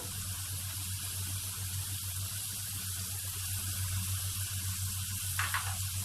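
Onions and garlic sautéing in hot fat in a pan, a steady soft sizzle and hiss running throughout at moderate level, with no talking.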